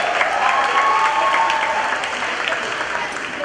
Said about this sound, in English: Let's give her a big round of applause as well.